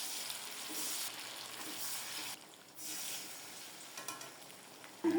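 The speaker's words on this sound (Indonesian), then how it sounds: "ini aku lagi bersiap buat goreng tempe" Tempeh fries in a pan over low heat, giving a steady close sizzle that briefly dips midway, then continues with light crackles and a soft clatter at the end.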